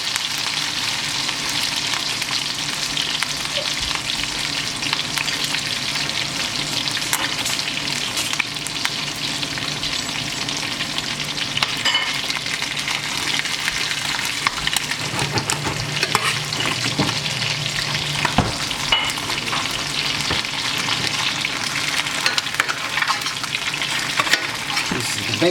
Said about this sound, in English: Let the butter melt, start coating the steak.